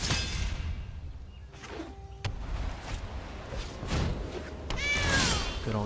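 A cat meows several times in a room, with a longer rising cry near the end, the calls fairly close and clear over low background noise.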